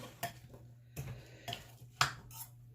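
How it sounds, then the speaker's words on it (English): Utensil clinking and scraping in a bowl as almond milk is stirred into apple fritter batter, four or five separate clattery strokes, quiet and close, with no talking. "All right, let me mix this up."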